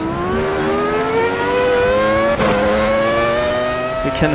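A 2001 Ferrari V10 Formula 1 car in Automobilista 2 screams at high revs from an onboard view, pitch climbing steadily through a gear, then a quick shift blip and a second brief shift near the end, loud and continuous with no talk.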